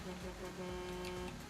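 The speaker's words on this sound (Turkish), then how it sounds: "O nasıl korna çalışan?" A car horn honks in the GTA 5 video game, a steady sustained tone held through most of the moment over a low engine rumble, with a voice talking underneath.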